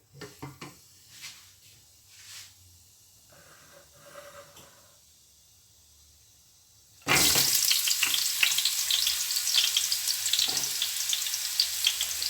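Onions dropped into hot oil in a pan for chicken korma, a quiet stretch of faint kitchen sounds giving way to a sudden loud, steady sizzle and hiss of frying that continues to the end.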